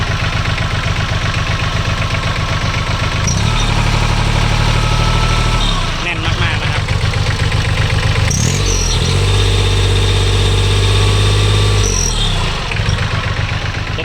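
A Kubota L3408 diesel tractor engine idles close by with a steady, loud chugging rumble, its pitch rising and dropping a few times as it revs.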